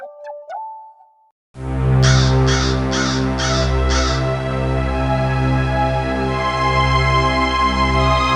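A crow caws repeatedly, five harsh calls in quick succession, close and loud over a steady droning background.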